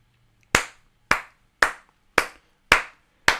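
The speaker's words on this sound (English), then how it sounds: "Clap for Michigan." Six sharp hand claps, evenly spaced about half a second apart, close and crisp with short decays and no voices.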